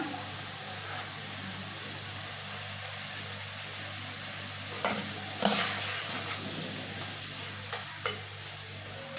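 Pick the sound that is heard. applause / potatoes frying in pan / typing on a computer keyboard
potatoes frying in pan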